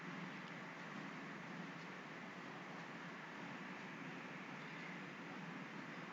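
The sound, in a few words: synthesized wind-like noise in electronic music track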